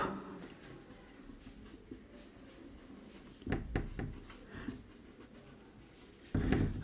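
A pen writing on paper, steady soft scratching strokes close up, with a few louder bursts of rubbing and no voices.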